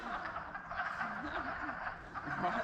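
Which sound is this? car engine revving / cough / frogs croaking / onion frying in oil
frogs croaking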